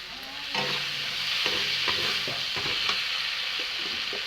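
Chopped tomatoes fry in spiced oil for a Bengali chicken and potato curry, giving a steady close sizzle broken by repeated scraping stirs of the spoon in the pan.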